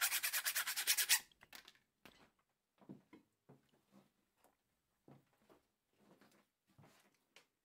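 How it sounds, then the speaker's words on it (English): Sandpaper rubs against a new brake shoe from a Sachs motor torpedo hub in a quick rhythmic burst of strokes, then a series of faint, scattered scraping touches. "I work with sandpaper on it, and so you will have a good brake."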